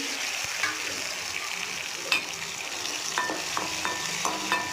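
Tomatoes with dried chillies sautéing in a pan: a steady, close sizzle and fry with a spoon stirring through it and a few light metallic clinks, and no voices.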